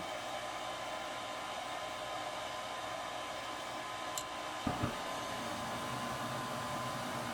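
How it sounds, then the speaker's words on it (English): Gas furnace burner firing after the gas valve opens, a steady broad whooshing roar that holds throughout, with a couple of faint clicks midway. "And then the gas valve will open."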